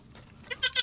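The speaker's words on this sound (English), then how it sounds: "Thank you, Jesus, for 2 healthy baby goats" Newborn baby goats bleat in two short, loud, close cries back to back at the end, preceded by fainter stirring.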